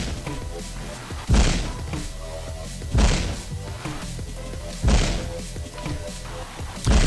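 Grenade launcher firing in the game Paranautical Activity, heavy thumping booms at roughly regular intervals of a second and a half to two seconds over a continuous low game background.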